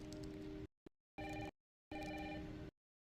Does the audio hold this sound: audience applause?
no